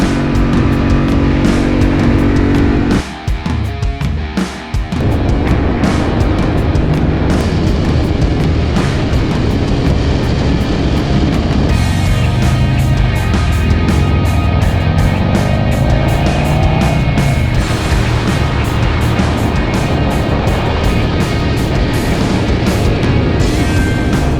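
A group of thirteen Harley-Davidson motorcycles, including a 2021 Pan America, riding together on the road to Julian, a steady, loud engine and road drone with shifting tones and a brief dip early on, no talk.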